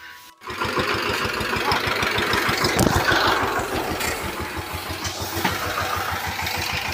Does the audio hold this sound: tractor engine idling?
yes